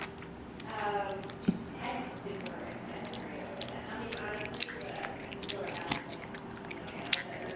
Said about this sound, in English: You chew it. Are you chewing?